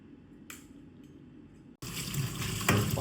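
Tap water runs onto crabs being scrubbed clean, a quiet trickle that turns into a louder, fuller gush of splashing water partway through, with a brief squishy burst near the end.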